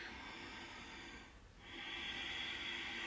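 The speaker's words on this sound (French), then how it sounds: "5 respirations ici." Soft, slow breathing during a yoga pose held for several breaths, a faint airy exhale fading out around the middle, then a steady inhale rising again, with no talking.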